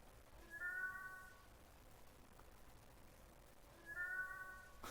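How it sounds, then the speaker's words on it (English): A cat meows twice, a few seconds apart; each call is faint and drawn out against a quiet, hissy background, with no voices. "That cat's creepy."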